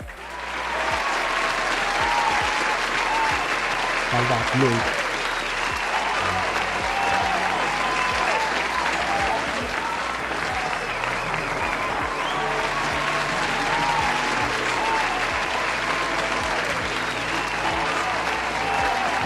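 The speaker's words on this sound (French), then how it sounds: "Est-ce qu'on peut applaudir pour Papa Claude," A crowd at a NANA 60 celebration applauds steadily for Papa Claude, a continuous broad roar of clapping lasting the whole stretch, while a voice speaks briefly over it.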